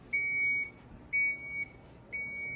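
A water purifier alarm gives three steady, high electronic beeps, each about half a second long and evenly spaced, clear and close against a faint background hiss.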